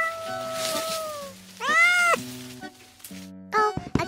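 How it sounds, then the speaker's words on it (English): A cat stuck up in a tree meows several times, clear and close, the calls rising and falling in pitch with short gaps between them, over faint rain patter. "Oh, a cat trapped on the tree."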